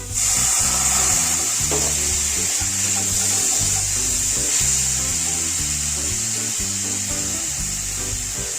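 Spices for masala pulao fry in a pan with a splash of water, a loud, continuous close sizzle and hiss running the whole way, with rhythmic scraping of stirring underneath.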